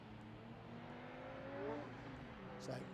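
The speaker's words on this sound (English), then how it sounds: "The cars now accelerate away onto their green flag lap" Several TCR touring cars accelerate together onto a green flag lap at Snetterton, engines rising in pitch, a steady roar with sweeping harmonic tones, fairly loud but somewhat distant.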